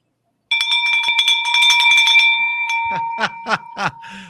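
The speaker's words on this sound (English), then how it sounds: "Ring that bell!" A bright bell rings repeatedly and loudly, its clanging strikes ringing out in a quick burst and then a few slower separate hits as the tone lingers.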